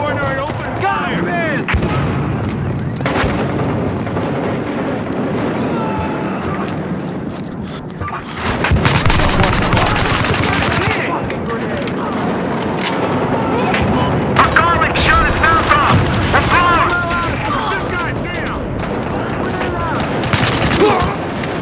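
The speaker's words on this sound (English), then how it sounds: "Hold the corner and open fire!" Battlefield Hardline team deathmatch firefight: rapid bursts of gunfire and heavier explosive blasts rattle on and off for over twenty seconds, loud and dense, with shouted voices mixed in.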